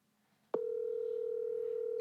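A steady telephone ringback tone starts abruptly after a brief quiet moment and holds evenly while a call is being placed, faint and continuous with no voices.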